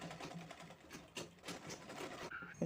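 A sewing machine stitching lace onto folded fabric runs quietly and steadily in a soft, rapid mechanical patter for a few seconds, with small clicks near the end.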